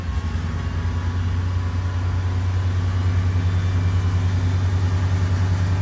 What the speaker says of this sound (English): So let's do a pull on the starboard engine.